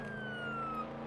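Police car siren in the Roblox Jailbreak game, a faint, steady wailing tone that slides slowly downward over engine and background noise.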